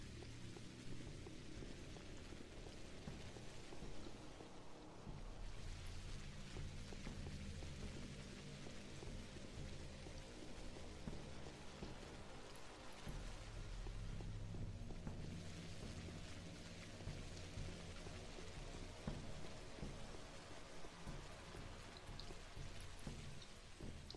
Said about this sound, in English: the episode has to end off on rain when the entirety of day 3 was set in the rain